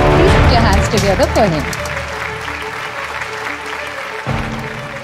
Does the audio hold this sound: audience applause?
yes